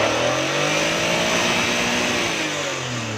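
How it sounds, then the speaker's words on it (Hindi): A Suzuki Khyber pickup engine revved lightly and steadily at close range, its mid-pitched hum rising and falling gently with a constant droning rumble and no talk over it. "सेटिंग करने के बाद गाड़ी को हल्का हल्का रेस दे के आपने चेक करना है"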